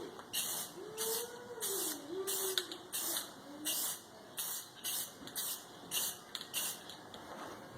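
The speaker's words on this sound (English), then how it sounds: "We're just using basic Rust-Oleum spray paint here" Short hissing bursts from a Rust-Oleum spray paint can, repeated in a steady rhythm of about a dozen quick sprays on a WEN 2500W inverter generator, close by, with faint voices murmuring underneath.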